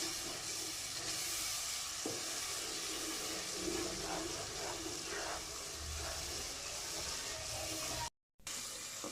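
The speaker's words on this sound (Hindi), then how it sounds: "थोड़ा सा पानी ऐड करके मसाले की अच्छी तरह भुनाई कर लेंगे।" Spices such as chilli powder, turmeric and garam masala sizzle and hiss steadily in a pan with a little water while being roasted for an ojri curry. The sound is soft and constant, with faint stirring bumps.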